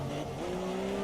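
Race car tyres squeal in a steady sustained skid in F1 2017 at the Austria track, the tone holding over a loud engine drone for about a second.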